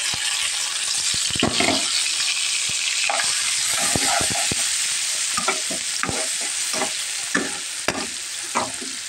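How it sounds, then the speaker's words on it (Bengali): Green chili and onion paste frying in a pan for a duck egg korma, a continuous close sizzle broken by repeated stirring clicks and scrapes, no talk. "এখন আমি কাঁচামরিচ আর পেঁয়াজের পেস্টটা দিয়ে দিলাম।"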